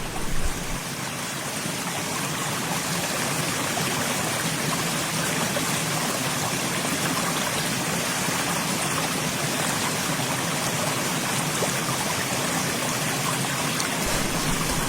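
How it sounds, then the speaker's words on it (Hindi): A small outdoor stream flows steadily, a continuous broadband rush of water close by that stays even and unbroken throughout, with no voices. "जो साउंड है पानी का बहुत ही एकदम शांत"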